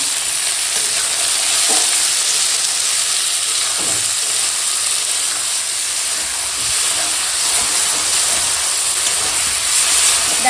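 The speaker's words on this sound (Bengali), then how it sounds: "টমেটো আর আলু দিয়ে সব একসঙ্গে ভাজবো" Steady loud sizzling of potatoes and tomatoes frying in a pan, a continuous hiss with faint occasional scraping of stirring.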